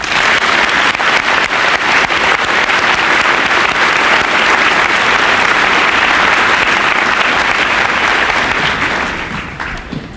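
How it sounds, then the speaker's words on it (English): Dense, loud applause from an audience at a 1996 high school senior assembly continues steadily for several seconds, then tapers off near the end. "Please give them a round of applause."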